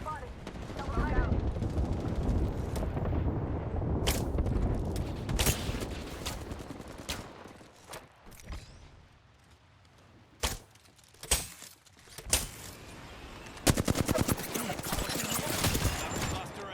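A knuckle cluster grenade launcher firing in a shooter video game, a string of sharp loud blasts and rapid crackling bursts over a dense battle din, with a player talking over parts of it.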